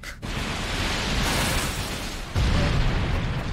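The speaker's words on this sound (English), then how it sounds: "Or the building exploding." A building explodes in an anime battle scene, a loud, sustained roaring blast that fills the whole clip and surges even heavier near the end, with no voices over it.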